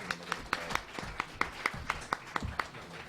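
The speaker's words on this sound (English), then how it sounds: "Everybody give them a round of applause" A few audience members clap for panelists at a blockchain summit, with sparse, distinct hand claps at a fairly quiet level over a soft room background.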